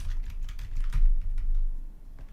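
Quick, uneven bursts of typing on a computer keyboard, close and steady for a couple of seconds with soft plastic key clicks and a faint low hum underneath.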